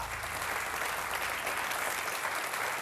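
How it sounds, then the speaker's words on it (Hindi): Studio audience at a Hindi television game show applauding, a continuous, even roar of clapping held for a few seconds with no speech over it. "ओके, जोरदार तालियां।"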